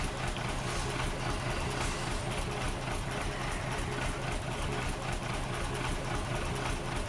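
Steady, loud, droning truck engine in the video game Farming Simulator 15, a continuous dense rumble that holds level for the whole stretch, with faint talk underneath.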